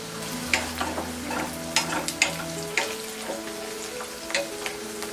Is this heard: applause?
no